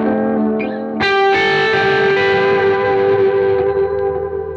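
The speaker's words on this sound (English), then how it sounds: "the tone of the actual delay pedal could not be better through this system" Electric guitar played through a delay pedal and distortion on a tube amp: a sustained, heavily overdriven chord rings out loud and close, with echo repeats trailing and smearing it, no voices.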